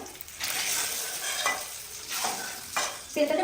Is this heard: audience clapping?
no